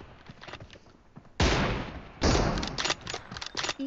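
Gunfire in a mobile shooting game with an M24 sniper rifle: two loud, sharp broadband blasts, each ringing out for about a second, over quieter in-game clicks and rattles.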